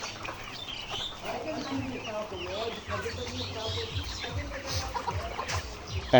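A 78-day-old layer chicken on a farm clucks repeatedly, joined by other birds' chirps and calls, under a person talking throughout.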